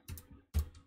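Typing on a computer keyboard in a fish shell terminal session, two short bursts of close keystrokes separated by a brief pause, with no voices.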